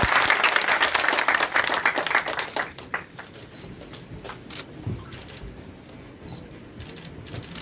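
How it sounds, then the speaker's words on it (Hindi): A crowd at a BJP political event applauds with loud, dense clapping that gradually thins and fades into scattered claps. "जोरदार तालियों के साथ स्वागत करें।"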